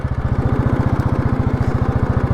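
An old Royal Enfield Bullet 350 with a cast-iron engine thumps steadily through water on an off-road riverside track, its loud, close single-cylinder beat pulsing in a fast even rhythm.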